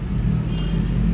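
Yamaha Mio scooter fitted with a PDW racing exhaust idling or cruising, a close, steady low rumbling burble throughout this short moment, with no one talking.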